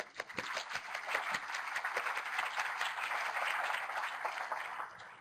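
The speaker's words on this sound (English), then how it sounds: "Let's give them a round of applause." Audience applause at a NASA lunar science forum, steady, dense clapping from a sizable crowd that holds evenly for about five seconds with a few sharper individual claps standing out near the start.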